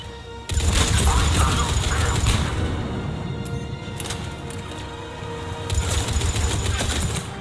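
Sustained heavy gunfire from a Mass Effect 3 firefight dominates, loud and near, with bursts and impacts running nearly throughout after a quiet start, while shouted voices occasionally break through.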